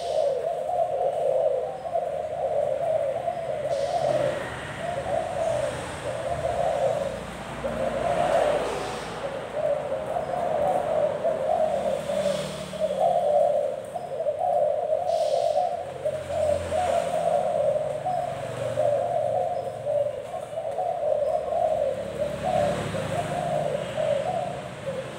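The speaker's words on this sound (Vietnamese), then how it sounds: "Đây là cặp chim mình tuyển chọn nha anh em." A pair of Thai doves of the vân rồng variety coo in a steady, continuous run of repeated calls, close and fairly loud over a faint background hum, with no talking.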